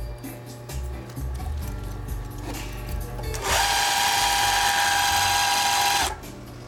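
A Singer 20U industrial zigzag sewing machine runs steadily for about two and a half seconds, a loud whirring motor hum with rapid needle ticking, following quieter mechanical handling noises before it starts.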